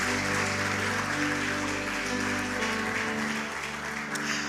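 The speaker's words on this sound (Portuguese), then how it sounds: "Pode aplaudir a Jesus." A church congregation claps for Jesus during a Sunday sermon, a steady dense wash of applause running the whole time over sustained keyboard or organ music.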